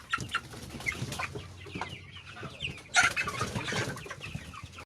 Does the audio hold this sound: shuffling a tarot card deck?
no